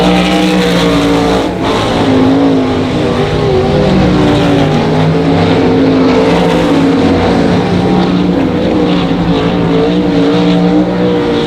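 Race cars lap a speedway during a heat race at Monarch Motor Speedway, their engines a loud, constant droning roar that rises and falls as the cars pass, filling the whole stretch without a break.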